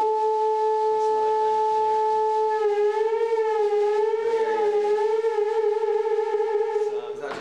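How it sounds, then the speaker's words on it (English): A steady synthesizer tone holds, then begins wavering up and down in pitch with a smooth, regular vibrato from a second modulating oscillator, loud and sustained throughout. "you use another oscillator to make the sound go up and down"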